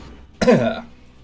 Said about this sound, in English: Still fighting with a freaking cough.